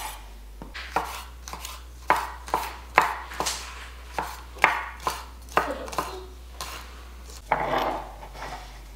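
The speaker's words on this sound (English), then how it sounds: "Next on the agenda is chilies. We're just gonna slice them up just like you normally would" Knife slicing chilies on a wooden chopping board, a steady series of sharp, close taps, about a dozen evenly spaced cuts, with no talk over them.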